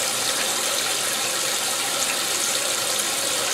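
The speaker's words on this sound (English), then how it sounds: "Love that stupid wash plate going back and forth." A GE Infusor high-efficiency top-load washer, model GTWN5050M0WS, with its wash plate shifting back and forth, giving a steady loud wash of churning water and faint mechanical squeaks throughout, with no talking.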